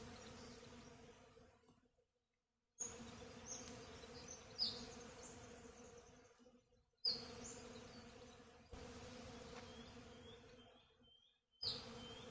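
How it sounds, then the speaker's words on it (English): Bees buzzing steadily around a flowering plum tree outdoors, a continuous close hum broken by brief silent gaps, with a few faint bird chirps in the background. "I hope you can hear those bees."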